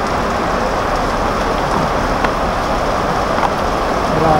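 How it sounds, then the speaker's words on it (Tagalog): Dense, steady rain roars close by at the market in Tagkawayan, Quezon, Philippines, pouring heavily on a hard surface with a constant hiss and no voices. "Lumakas ng ulan, no?"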